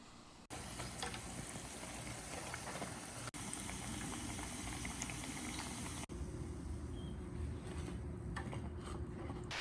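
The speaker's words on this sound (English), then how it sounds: "Frying up the last 3 pieces." Beignet dough sizzling and crackling steadily in hot oil, a loud, dense frying hiss that runs continuously with a couple of very brief breaks.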